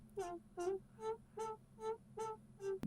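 A vocoded vocal line run through a filter in an electronic music production, heard as seven evenly spaced, pulsing robotic syllables with a steady low bed underneath.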